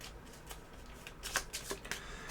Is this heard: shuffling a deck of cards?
yes